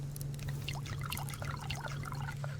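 Plants being watered in the survival video game Subsistence: a gentle trickling, splashing flow heard up close over a steady low background hum.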